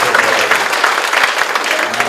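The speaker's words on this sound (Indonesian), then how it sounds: "Tepuk tangan buat wanita-wanita yang ada di" A crowd at a stand-up comedy show claps loudly in a steady burst of applause for the women present, with a few voices mixed in under the clapping.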